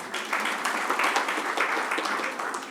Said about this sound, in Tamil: நல்ல ஒரு கைத்தட்டல் கொடுக்கலாமே.